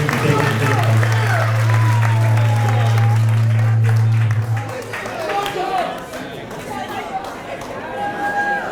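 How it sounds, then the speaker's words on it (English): Audience applause for the Greater Harvard Academy of the Arts Jazz Band at a Juneteenth celebration in Granby: dense, loud clapping fills the first four seconds over a steady low hum, then thins into crowd chatter and talk. "Let's give one more round of applause for the Greater Harvard Academy of the Arts Jazz Band."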